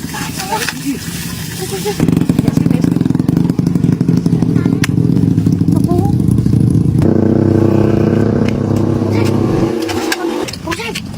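A motorcycle engine roars loudly and steadily close by, its pitch shifting as it revs, with voices talking over it.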